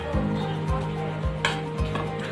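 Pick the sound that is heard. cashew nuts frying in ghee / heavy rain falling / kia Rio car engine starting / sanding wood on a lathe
cashew nuts frying in ghee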